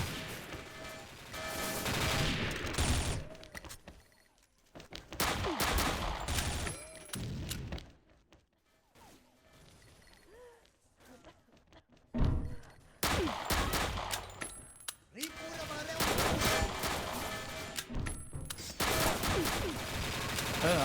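Rapid bursts of gunfire in the shooter video game XSHOT, loud clusters of shots separated by quieter stretches, with a voice talking faintly underneath.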